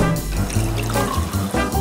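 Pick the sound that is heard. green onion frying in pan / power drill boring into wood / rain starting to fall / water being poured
water being poured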